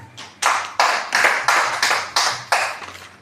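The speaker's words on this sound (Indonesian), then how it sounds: "mari kita tepuk tangan kita semua" An audience at a village customary-institution training session in Rigi claps in strong, rhythmic unison bursts, about eight evenly spaced loud volleys in close succession with no talk over them.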